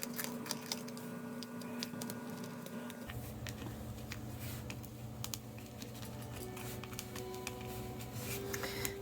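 A Bic Velocity 1.6 pen circling bubble shapes on a mixed-media index card, heard as close, light scratching and tapping strokes with a low steady hum underneath.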